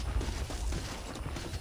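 Horse hooves clip-clopping on a ranch in Red Dead Redemption, a steady walking rhythm of low thuds set against continuous ambient game noise, with no voices.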